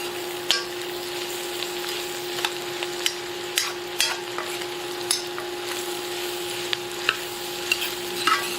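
Mushrooms fry in olive oil in a pan over lowered heat for a sausage soup, a soft steady sizzle broken by frequent light taps and scrapes of a stirring utensil, with a faint steady hum behind.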